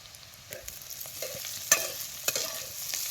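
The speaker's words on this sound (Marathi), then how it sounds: "आता ही शेंग तेलात चांगली भाजली बघा" Tender green bean pods frying in hot oil with turmeric and chutney, a soft sizzle broken by the clinks and scrapes of a spoon stirring the pan.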